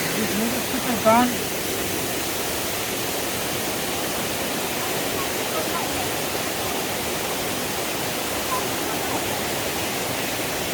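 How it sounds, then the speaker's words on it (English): Waterfall beside a small river on a hike, a steady broadband roar of falling water filling the whole scene, close and constant, with a brief faint voice near the start. "And on this side, beautiful waterfall."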